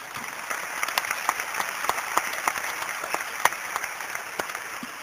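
Audience at a scientific round-table event applauds to thank a speaker, a steady wash of clapping from a hall crowd with individual claps popping out sharply, under a faint constant high-pitched hum.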